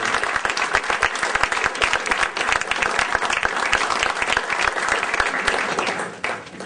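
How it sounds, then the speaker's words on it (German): Audience applause at a panel discussion: dense, steady clapping from a crowd, loud and sustained for several seconds before tapering off near the end. "Und ich würde mich sehr freuen, über einen Applaus."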